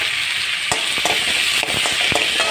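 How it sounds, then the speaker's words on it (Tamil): Chopped tomatoes sautéing with onions in a pan, giving a steady loud sizzle with a few sharp stirring scrapes and knocks throughout. "அந்த தக்காளி போட்டு வதக்கிக்கோங்க"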